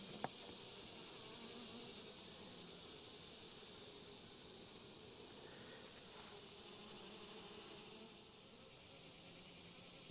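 Honey bees buzz around an open beehive, a faint continuous swarm hum with a few brief knocks.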